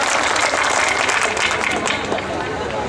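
Dense, steady audience applause at an All India Mushaira poetry gathering in Dooba, Araria, with crowd murmur running through it for a few seconds.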